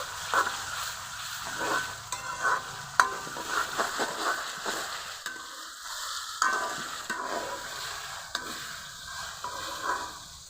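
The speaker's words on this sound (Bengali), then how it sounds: "আদা বাটা দিব টমেটো কুচি সবগুলো মশলা ভালো করে কিছুক্ষণ কষিয়ে নেব" Spices with ginger paste and chopped tomato fry in a pan for a Bengali country-chicken curry, giving a soft ongoing sizzle broken by repeated stirring scrapes and clacks, close and unaccompanied by talk.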